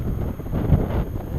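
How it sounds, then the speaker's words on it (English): Strong, gusty wind buffets the microphone outdoors on a very windy day while a Cheerson CX-30S drone is flown, producing a steady low roar with no voices. "it is extremely windy"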